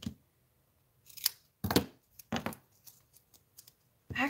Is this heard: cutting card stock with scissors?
yes